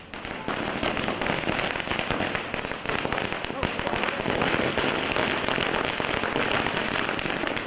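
Firecrackers burst at a street celebration held by AIADMK party supporters in Tamil Nadu, a loud, dense, unbroken crackle of rapid pops lasting the whole stretch, with voices mixed in underneath.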